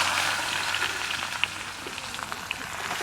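Fried jackfruit being tempered in hot oil, giving a steady, soft sizzle with scattered small crackles and pops, close by and unbroken by talk.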